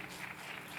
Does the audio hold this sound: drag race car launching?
no